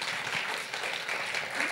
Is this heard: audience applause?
yes